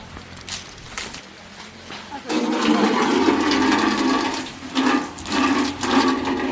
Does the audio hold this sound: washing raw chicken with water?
yes